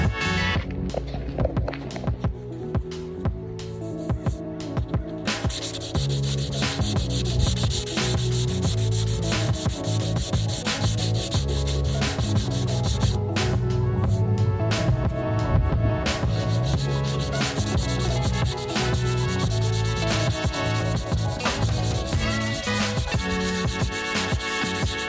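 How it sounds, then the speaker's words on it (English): Hardened Bondo body filler being sanded on RV fiberglass, a continuous loud abrasive scrubbing with a rapid back-and-forth rhythm, close up and uninterrupted. "we got it fully sanded"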